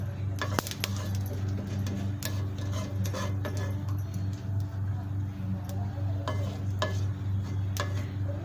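Mustard seeds crackle and pop in hot oil on a dosa pan while making ragi dosa, sharp irregular ticks and snaps over a steady low hum, close and moderately loud with some quiet talk.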